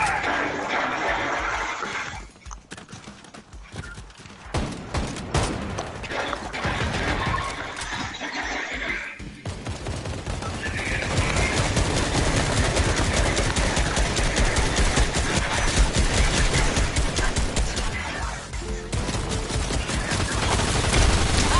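Loud, rapid bursts of gunfire from the big boss in Fortnite, a dense volley that thins briefly early on, then turns into a sustained heavy barrage lasting most of the stretch.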